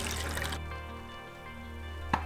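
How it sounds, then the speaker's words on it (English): Reusable black-and-white film developing chemical is poured back into its container, a close, steady liquid pour for about half a second, followed by quiet hum and a single small clink near the end. "since it's reusable, we just pour it right back in here."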